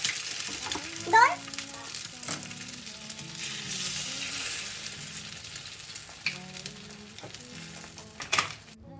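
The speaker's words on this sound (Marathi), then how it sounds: "करते गरम गरम हाफ फ्राय तुझ्यासाठी" Eggs sizzling as half-fry in a hot pan at home, a steady soft crackle of frying under occasional voices, with someone speaking briefly.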